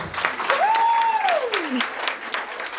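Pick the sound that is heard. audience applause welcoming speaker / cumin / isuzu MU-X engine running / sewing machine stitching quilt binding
audience applause welcoming speaker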